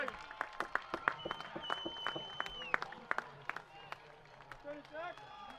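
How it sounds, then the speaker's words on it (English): Washington Husky fans in a college soccer stadium cheer and applaud a goal from the far side of the field, a distant crowd roar with scattered claps and whistles, a commentator speaking over it. "the fair amount of Husky fans in the crowd cheer and applaud on the far side of the field"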